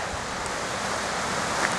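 Steady broadband rush of the Wakidenomya-jinja waterfalls, heard from a distance down a flight of steps at a Japanese shrine, an even continuous roar with no talk.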